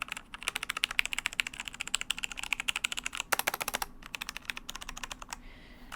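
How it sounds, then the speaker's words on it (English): Steady, rapid typing on full-size keyboards with tactile mechanical switches (Cherry MX Brown, Romer-G Tactile, GX Brown and GL Brown), dense clicky keystrokes running continuously with a few brief pauses, close and clear with no talking. "Now let's compare these three full-size tactile mechanical key switches."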